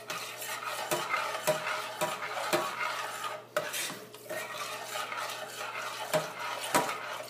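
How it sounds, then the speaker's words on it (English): A spoon stirs milk into tuna casserole sauce in a pan over medium heat, making a continuous scraping, swishing sound with regular sharp clinks against the metal, close and alone with no talk. "gradually add this in, stirring constantly over medium heat so that you don't develop lumps"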